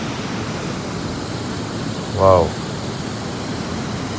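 Polluru waterfall at Maredumilli roars as a steady broadband wash of falling water, near and continuous, with one short exclaiming voice rising briefly over it midway.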